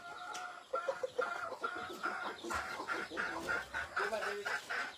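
Rhode Island chickens on a farm cluck in short, repeated bursts close by, the calls overlapping in an uneven rhythm, with faint voices in the background.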